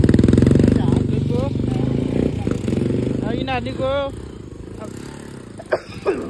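A fully modified motorcycle engine rumbles loudly with a deep throbbing idle, while someone talks over it near the microphone.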